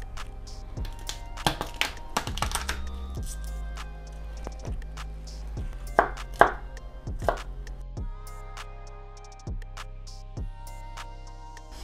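Garlic and ginger chopped with a knife on a cutting board for keto carnitas and beef meal prep, giving bursts of rapid, close, sharp knife taps with pauses between runs and no talking.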